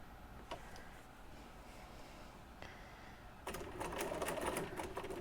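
A domestic sewing machine stitches a sampler quilt block, beginning after a few faint clicks and running in a steady, fairly close mechanical whir through the final second and a half.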